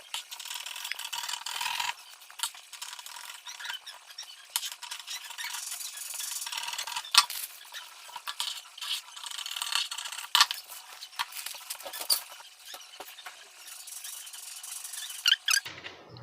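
Scissors cut through a paper bustier pattern with close, crisp snips and rustling paper, coming in irregular bursts throughout, with no talking.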